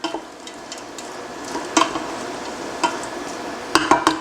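Frozen corn is stirred into a pot of oil-free white bean and Swiss chard soup, with a soft, steady scraping and gentle clinks of the spoon against the pot, a few sharper knocks standing out, and no talking.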